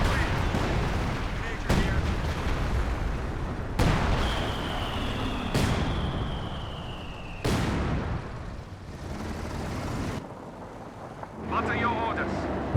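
An artillery barrage in Company of Heroes 2: several heavy booming impacts spaced a couple of seconds apart over rumbling battle noise and wind, with someone talking over it.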